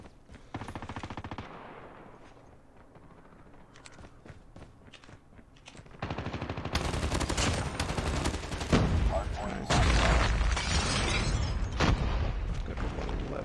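HG40 submachine gun fire in a Call of Duty–style shooter game, rapid bursts cracking out in repeated volleys that grow louder and denser toward the end, mixed with footsteps and blasts.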